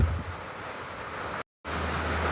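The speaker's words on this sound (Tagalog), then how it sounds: "Ngayon lalaking alon." Large sea waves and wind on a rough day along the coast, a steady roaring wash with low rumble, broken briefly by a dropout before resuming.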